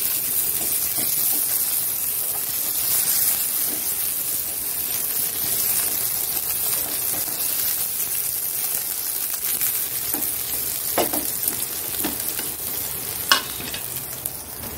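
Onion and chili sizzle steadily in hot oil in a pan for a fish curry, with continuous frying hiss and occasional scraping stirs and clinks, close and moderately loud, no talking.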